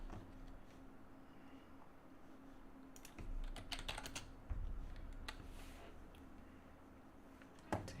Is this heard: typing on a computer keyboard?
yes